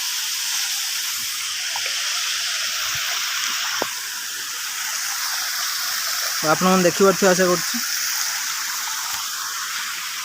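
A small waterfall on Juguni hill rushes with a steady broadband hiss throughout, while a person speaks briefly partway through.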